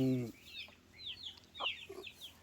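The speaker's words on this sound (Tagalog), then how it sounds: "inilabas muna natin yung isang manok na lalaki" Chickens on a backyard farm with a rooster, a short low call at the start followed by several scattered soft clucks and chirpy squawks, fairly quiet and close by.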